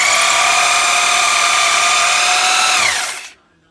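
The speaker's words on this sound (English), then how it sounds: "So it's hammer drill, it's not drill." A hammer drill bores into fireplace masonry with a loud, steady high-pitched whine that runs for about three seconds, then winds down quickly to silence.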